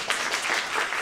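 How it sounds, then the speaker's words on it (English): Meeting attendees clap together in steady, dense applause for a committee chair, a continuous crackle of many hands at moderate volume. "Let's give our chair of the Virginia State Conference membership committee a round of applause."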